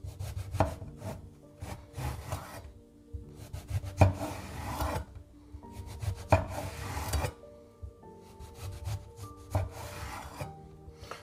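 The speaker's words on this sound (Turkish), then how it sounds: "Patlıcanı hemen şöyle sizden paçalı soymanızı istiyorum." A knife scrapes strips of skin from an eggplant, peeling it in alternating stripes, giving repeated short rasping strokes with light knocks and clinks between them, close and fairly quiet.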